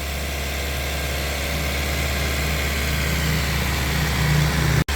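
A Honda BR-V engine fitted with double Blackcore runs steadily near the exhaust, a continuous low idle drone without clear revving that cuts off abruptly at the end.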